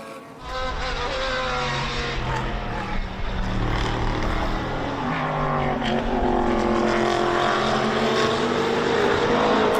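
GT race cars, including a Lamborghini Huracan GT3 and GT4-class cars, race at the Brno circuit, their engines a loud, sustained roar that rises and falls in pitch as they accelerate and shift, without talking.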